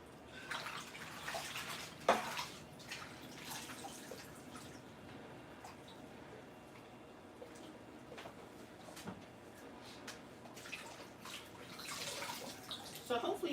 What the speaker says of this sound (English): Yeah, it's just agitating the water.